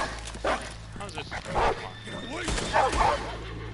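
A dog in the video game Red Dead Redemption 2 yelps and whimpers in several short, sharp cries after being shot, mixed in with game dialogue and a person talking.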